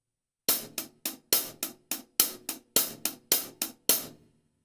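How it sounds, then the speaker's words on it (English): Hi-hat accents struck with the shoulder of a drumstick ring out as a steady run of about a dozen bright, crisp hits with short decays, close and alone. "using the shoulder of the stick is the best way to get a good sound out of the hi-hat and get good"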